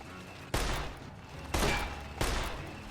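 Three separate bursts of gunfire in Fallout: New Vegas, each a sharp loud crack followed by a decaying tail, spaced roughly a second apart over quiet background.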